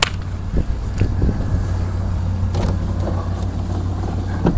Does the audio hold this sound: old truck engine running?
yes